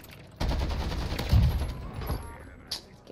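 Gunfire in the Warzone battle royale game, a burst of shots rising from a low rumble, with a louder crack around the middle and a brief sharper report near the end, fairly close and chaotic.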